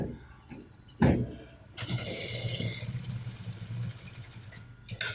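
Sewing machine stitching across a trouser overlap, a short burst of running stitches followed by a longer steady whirring run, close and fairly loud.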